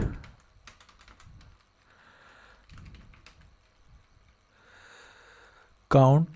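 Bursts of computer keyboard typing while an Excel formula is entered, soft clustered keystrokes separated by pauses, with someone speaking quietly in between and a sharp louder sound at the end.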